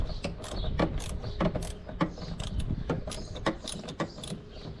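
Close, rapid clicking of a ratchet wrench working a 10 millimeter bolt on a 2007 Hemi Dodge Ram 1500, repeated metallic ticks in quick uneven bursts, with no talk.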